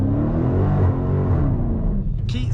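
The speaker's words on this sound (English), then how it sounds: "To launch, press brake and quickly apply full throttle" A 2020 Dodge Challenger Scat Pack engine revs loudly at full throttle during a launch attempt, a steady deep roar that holds and then drops off abruptly near the end.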